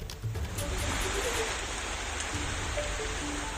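Heavy rain pours down with strong gusting wind ahead of Cyclone Yaas making landfall in Odisha, a dense, steady roar of water and wind that stays loud and close for the whole stretch.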